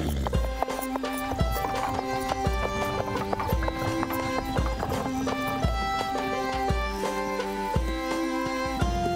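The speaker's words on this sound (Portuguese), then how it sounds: "Um cavalo está arando sozinho." A horse clip-clops along and neighs in a children's cartoon, with busy music playing throughout and rhythmic hoofbeats in the mix.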